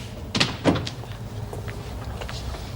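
A home's front door is opened for a visitor: two quick, close knocks or clunks from the handle and latch, then quiet room tone.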